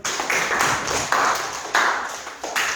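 A classroom of students claps in several uneven bursts, the rapid hand claps coming near and fairly loud and then stopping briefly between each burst.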